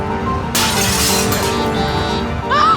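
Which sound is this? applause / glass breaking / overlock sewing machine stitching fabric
glass breaking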